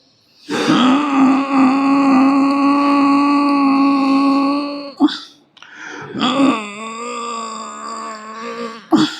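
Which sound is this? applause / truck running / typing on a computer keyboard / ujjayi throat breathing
ujjayi throat breathing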